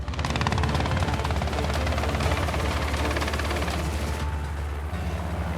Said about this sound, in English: I can hear the helicopter right at the mouth of the boma.